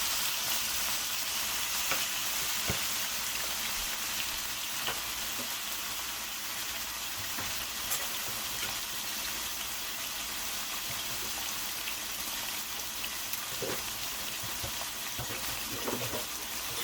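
Beef shank sizzling and frying steadily in a pot with no seasoning added, a constant close hiss with occasional soft pops and stirring clinks throughout.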